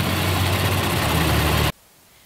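A Toyota Sienna's 3.5-liter V6 idles with a steady, loud broadband hum and low rumble, then cuts off abruptly, leaving near silence.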